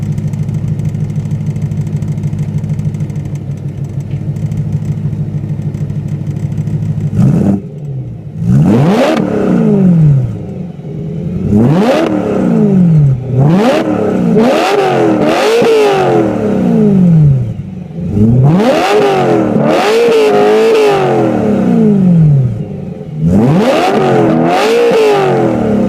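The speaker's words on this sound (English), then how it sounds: "So let me just go rev it now." A BMW M3 E93 fitted with a Meisterschaft GT2 exhaust idles steadily, then revs hard several times, each blip rising and falling sharply, loud and close with no talking.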